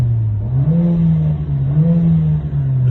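A Mercedes-AMG A45 engine revs in neutral, rising in pitch and holding near, with a loud, steady mid-range drone and brief dips between throttle blips.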